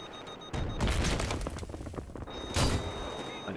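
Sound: gunfire in Battlefield 3 video game

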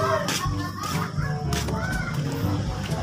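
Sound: native chickens clucking and rooster crowing

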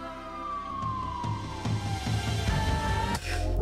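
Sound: police car siren

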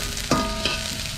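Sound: garlic and spices frying and being stirred in hot oil

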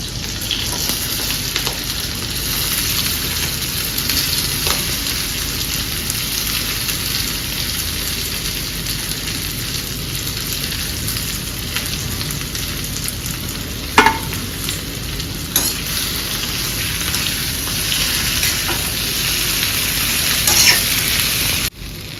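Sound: potatoes frying in a pan

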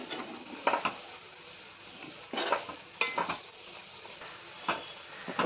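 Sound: stirring mutton liver fry with spices in pan

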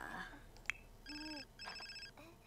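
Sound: telephone ringing in the video game The Sims 4

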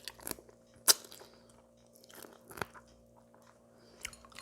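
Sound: eating braised pork ribs with aged kimchi

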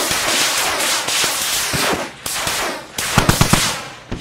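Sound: artillery firing in the video game Squad

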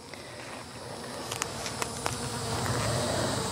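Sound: honey bees buzzing at an open beehive

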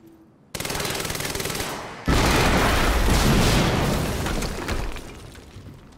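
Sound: explosion in video game

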